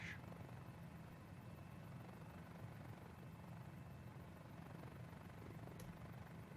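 Mini-500 helicopter lifting off, a steady, fairly faint rotor and engine drone that holds evenly throughout with no clear change in pitch.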